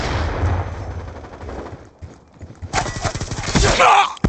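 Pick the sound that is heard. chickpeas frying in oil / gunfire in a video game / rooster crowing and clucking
gunfire in a video game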